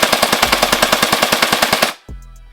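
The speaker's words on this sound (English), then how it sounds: "put it on full auto. See how fast this thing shoots." Faction Havoc foam blaster on full auto, a fast even stream of close mechanical shots around ten per second, stopping abruptly and followed by a low motor whir.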